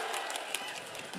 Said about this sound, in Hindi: संजय जायसवाल के लिए जोर से ताली बजाओ सभी लोग